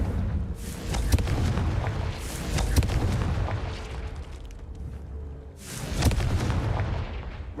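Repeated explosive spell blasts in Hogwarts Legacy, loud booming bursts at intervals with crackling tails and a rumbling low background between impacts, no speech.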